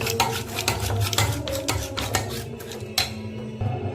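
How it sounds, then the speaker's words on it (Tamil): Thick curd with salt is whisked briskly in a bowl, a rapid rhythmic scraping and tapping of a utensil against the bowl, close and fairly loud, with no speech. "நல்லா கெட்டி தயிர் எடுத்து வச்சுருக்கேங்க. இது இப்போ நம்ம சிலிப்பிக்கலாம்."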